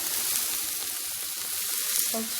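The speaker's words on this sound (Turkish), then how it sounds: "Kıymamı güzelce ezerek kavuruyorum." Ground meat frying and being mashed in a pan for stuffed peppers gives a steady, close sizzle with soft scraping stir sounds throughout, no talking.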